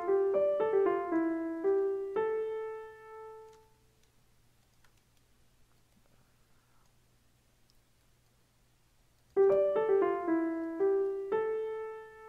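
Asriel melody built in FL Studio: a bright synth phrase of quick descending notes that ends on a held tone and fades, followed by several seconds of near silence before the same phrase starts again.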